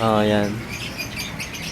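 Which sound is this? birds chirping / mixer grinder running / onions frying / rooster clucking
birds chirping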